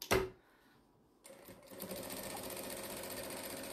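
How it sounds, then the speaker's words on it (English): A sewing machine stitches jelly roll fabric strips for a tote bag. A short clunk is followed by a pause, then the motor starts and runs with a steady rapid needle chatter to the end. "just sew those two pieces together and then turn it out"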